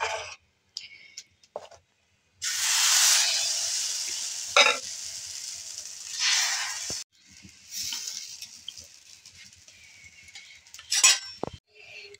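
Batter poured onto a hot, oiled clay griddle sets off a loud, steady sizzle that swells and fades over several seconds, broken by brief clinks and scrapes of a utensil, with no talking.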